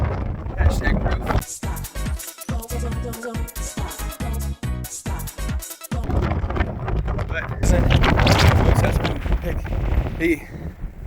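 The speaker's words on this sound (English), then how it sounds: "Even though it's insanely windy out today." Strong gusty wind buffets the microphone in rough, roaring bursts that swell louder toward the end.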